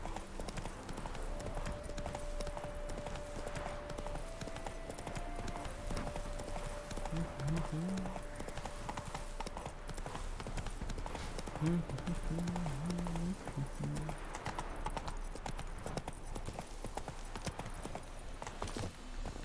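Hooves of a horse galloping in The Witcher 3 video game, a fast rhythmic clip-clop running steadily under game music, faint and distant in the mix, with a voice urging the horse on.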